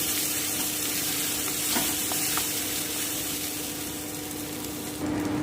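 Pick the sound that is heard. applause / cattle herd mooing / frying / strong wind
frying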